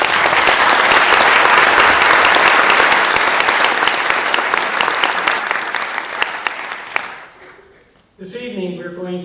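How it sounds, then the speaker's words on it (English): Loud, dense applause from a crowd at a Cecil County council candidates forum, sustained for several seconds before tapering off, followed by a speaking voice. "let's give them all a round of applause"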